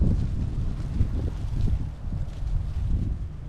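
Blustery wind at a snowy lake buffets the microphone with a steady low rumble, gusting and rolling without pause and with no other sounds standing out.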